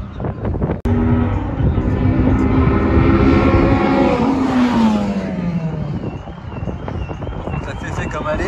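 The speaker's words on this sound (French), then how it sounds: "Souffle du turbo." A tuned car at a burnout event revs loud and close, then lets off with a rushing turbo blow-off whoosh as the engine note falls away amid wind noise.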